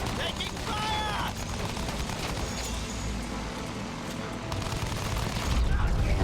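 Gunfire in the World War I shooter game Battlefield 1, a dense stretch of rattling shots and booms mixed with game noise, with voices over it.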